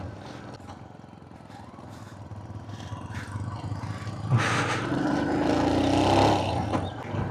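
Motorcycle engine droning steadily on a forest road near Purulia, recorded from a camera mounted on the bike, with wind noise swelling louder toward the end.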